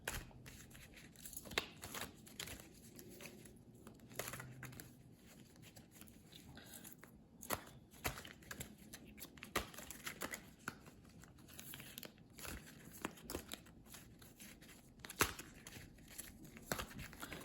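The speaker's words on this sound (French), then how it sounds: "On va tirer les cartes." Playing cards drawn and shuffled by hand for a reading, with soft papery riffles, slides and light crinkly snaps recurring irregularly at close range against a quiet room, no talking.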